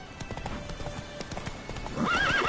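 Horse galloping in The Witcher 3 video game: steady, rapid hoof clip-clops close by, ending with a whinny, under faint game background sound.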